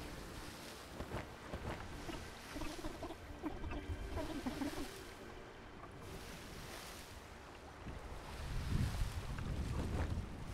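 Wind gusting over open sea while sailing in the game Sail Forth, a steady broad rush with swelling surges and water wash, fairly faint and continuous throughout, with no talking.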